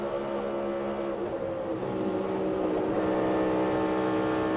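NASCAR Cup race car at Daytona going back on the throttle after a wall impact, a sustained engine roar that rises and swells in pitch midway, heard from a distance over broadcast ambience.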